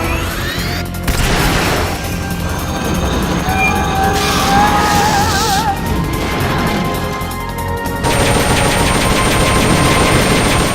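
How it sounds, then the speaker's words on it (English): Boosters firing in the video game Metal Gear Solid Peace Walker, a loud, dense mechanical roar with rapid rattling bursts and electronic warbles, continuous and harsh throughout, with a brief change in texture partway through. "Firing boosters."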